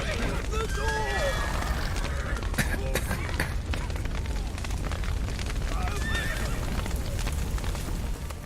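Horses neigh and whinny in The Witcher 3 among galloping clip-clop hooves, bursts of crashing noise and the rumble of a collapsing burning building. Several sharp whinnies come early and again near the end, over a loud, busy backdrop.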